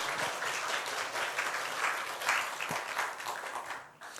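A church congregation applauds at a Sunday service, a dense, even patter of clapping from many hands that carries on for several seconds before tapering off at the end.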